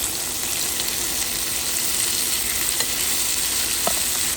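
Chicken cafreal with sliced potatoes cooks over a low flame, giving a steady, even sizzle and faint frying crackle throughout with a couple of small pops near the end.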